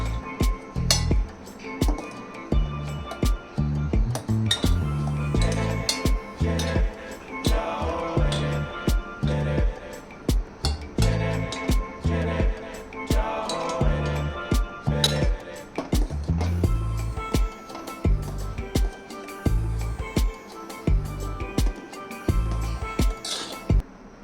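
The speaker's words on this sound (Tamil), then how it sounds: "கரண்டியால் அப்பப்போ நம்ம கிண்டிக்கிட்டோம்னா அந்த சாதத்தில் வந்து அந்த நுரை வந்து அடி பிடிக்காமல் இருக்கும்" A ladle knocks and scrapes against a cooking pot while stirring rice, producing repeated metallic clinks and clunks in an uneven rhythm, close and fairly loud.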